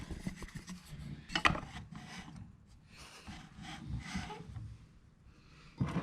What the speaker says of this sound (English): Try to scrape out and get all the yeast in there that I can.